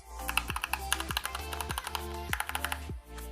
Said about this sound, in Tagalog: Medyo subtle lang yung keys niya.